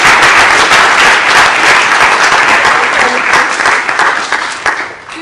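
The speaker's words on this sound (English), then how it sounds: "Give her a round of applause." A room of listeners at an economic justice lecture gives a loud, full round of applause to welcome speaker Dr. Lenore Palladino, sustained and even before tapering away at the end.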